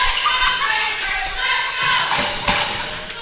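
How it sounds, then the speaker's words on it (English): Spectators at a girls' 2A provincial volleyball championship cheer the Breakers, a steady crowd roar with shouts and a few sharp thumps carrying through the gym. "And you can hear that crowd cheering on the Breakers."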